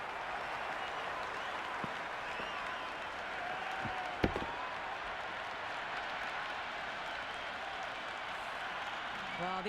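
Crowd cheering and applauding at a Big Bash cricket match, Sydney Sixers versus Melbourne Stars, in the video game Cricket 26, a steady broad roar throughout with a brief sharp knock midway.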